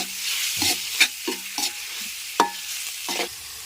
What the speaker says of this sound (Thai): ใส่เนื้อหมูลงไปผัดเลยค่ะ ให้สุกเลยนะคะ